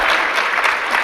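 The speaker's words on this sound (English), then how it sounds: "That's my team clapping" Office team clapping in applause in Jaipur, celebrating a hotel deal just signed, a steady dense patter of many hands at close range with no talk over it.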